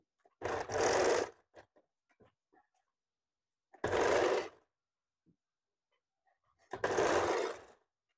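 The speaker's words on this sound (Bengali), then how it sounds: "তার জন্য এইভাবে টিকেনটা সেলাই করবেন" A sewing machine stitches darts on a blouse in three short bursts of rapid whirring, with quiet pauses and light handling noises between runs.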